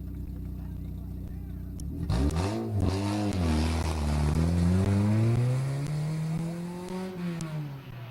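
A race car engine at Midvale Speedway on a victory lap rises and falls as it revs and passes, loud and sustained over the speedway ambience, with speech mixed in.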